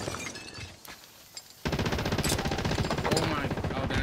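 Rapid automatic gunfire rips through a Warzone match on Rebirth Island, a quiet stretch with a few faint shots giving way to loud, dense sustained bursts that continue to the end.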